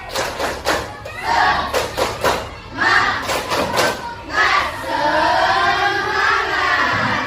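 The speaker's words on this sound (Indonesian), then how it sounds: "Tepuk semangat." Pupils in a madrasah junior high classroom perform the tepuk semangat spirit clap, with sharp rhythmic bursts of group clapping alongside chanting children's voices, followed by sustained group voices.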